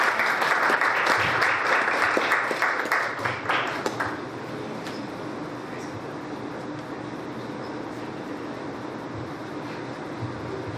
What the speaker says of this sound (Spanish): un aplauso de entrada para el licenciado